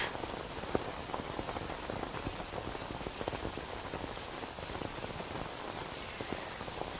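Steady rain falls continuously in a dense, even patter with many close droplet hits, and no voices come through.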